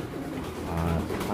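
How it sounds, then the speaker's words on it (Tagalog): Racing pigeons imported from Thailand cooing in a loft, low rolling coos layered over one another, close and steady with a soft broadband hiss behind them. "update ko pala kayo dun sa mga kinuha namin ibon galing Thailand Master mga kalapatids"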